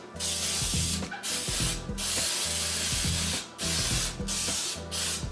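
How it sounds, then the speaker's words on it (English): Several short bursts of Baker's Joy flour baking spray are aimed into a cake pan for a carrot loaf cake, each hiss loud and close, separated by brief pauses and faint handling clicks. "you can either spray it, which I'm spraying with Baker's Joy"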